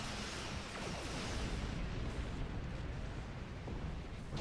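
Rumbling in-game explosions from a point defense bombardment in Star Trek Online, a steady dense low roar of overlapping blasts and crackle running throughout without a break.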